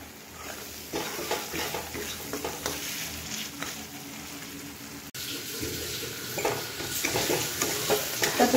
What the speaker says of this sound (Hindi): आ एबे मु माछ फ्राई कर।